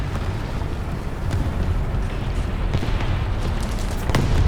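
Tank gunfire and explosions in War Thunder come through as a dense, continuous rumble of distant booms, with a few sharper blasts rising out of the din.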